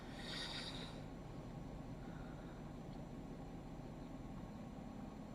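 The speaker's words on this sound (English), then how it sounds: "Excuse the traffic noise outside." A truck engine idles just outside a house: a steady, low rumbling drone that holds evenly throughout with no gaps and no voices.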